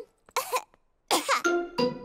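Cartoon pig-world character from Peppa Pig coughing: two separate bursts of harsh, throaty coughs, the second longer and ending in a raspy throat-clearing rattle, close and clear with no talk over it.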